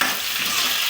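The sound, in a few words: brinjal frying in a pan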